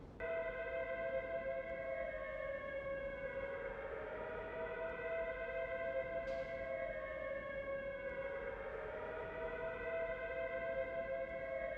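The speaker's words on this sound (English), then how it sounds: "Have the chaps ready to move as soon as we hear those air raid sirens." Air raid sirens in the 2002 Prisoner of War video game wail continuously, rising and falling in long slow sweeps with layered harmonic tones, loud and steady throughout without any speech.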